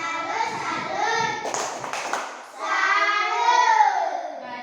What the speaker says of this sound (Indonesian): berikan tepuk salut kepada kelompok 1